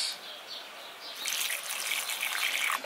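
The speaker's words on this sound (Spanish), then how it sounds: "y echamos un poco de agua más." Water poured onto freshly covered soil after seeds are planted, a rushing, splashing gush that swells after a quieter start and continues steadily to the end, with faint bird calls nearby.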